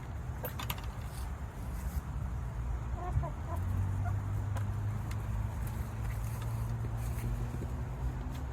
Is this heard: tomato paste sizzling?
no